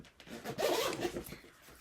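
Zipper on a handmade fabric bag with card slots and a slip pocket, pulled in one close, scratchy run with a short tug at the end, no talking.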